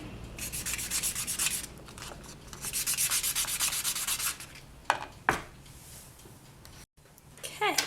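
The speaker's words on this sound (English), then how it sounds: "and you'll sand the back as well" Polymer clay earrings rubbed against sandpaper, a close, scratchy rasping in repeated back-and-forth bursts with brief pauses between strokes.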